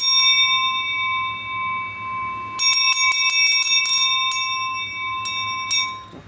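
A small 24k gold-plated bell, 11.5 cm across and 20 cm tall, rings with a sustained clear tone, then is struck several times in quick succession, each strike bright and ringing out close up.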